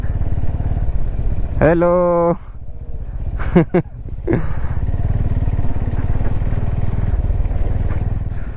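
Bajaj Pulsar N250 motorcycle engine crawling through deep mud off-road, a steady low rumble throughout with a brief voice calling out early on.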